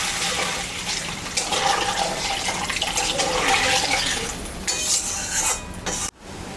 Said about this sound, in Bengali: আমি এখন অল্প পরিমাণে জল দিয়ে দেবো